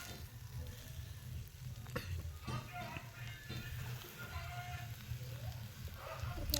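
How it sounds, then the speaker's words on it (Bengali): Chikni greens with potato and eggplant stir-fry briefly in a pan, a low continuous sizzle with occasional light stirring clicks and scrapes, a faint voice now and then in the background. "চিকনি শাকটা না কষালেও চলে, কিন্তু আমি সামান্য একটু এপিট ওপিট করে নেব"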